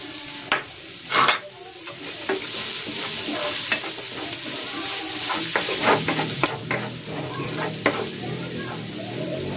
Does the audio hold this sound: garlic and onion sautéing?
yes